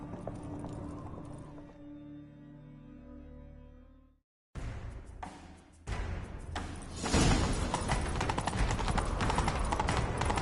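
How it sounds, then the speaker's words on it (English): Horse hooves clip-clop in a quick galloping rhythm in The Witcher 3, growing louder and busier after a brief pause, with heavy thuds mixed into the noise. "Grab a horse, we'll chase him down."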